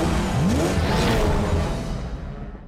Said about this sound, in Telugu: అదిగా వెళ్తున్నాడు కిక్కో. వాడి కారు సూపర్ స్పీడో.